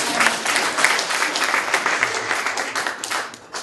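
Lecture audience applauding a speaker, a dense, steady wash of many hands clapping at close range for nearly four seconds, fading slightly at the end.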